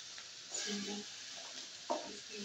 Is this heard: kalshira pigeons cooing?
no